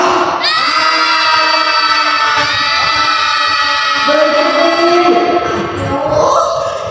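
Theatre actors rehearsing on cue let out loud, sustained screams and cries of pain together, a dense chorus of overlapping voices that rises and shifts in pitch for several seconds.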